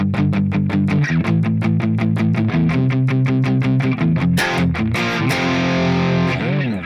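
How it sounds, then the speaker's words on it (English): Distorted electric guitar chugs palm-muted power chords in steady driving eighth notes for the verse of Lustra's "Scotty Doesn't Know," starting on G, loud and close, ending with a brief ringing slide. "So the next verse, what we're going to be doing is palm muting power chords."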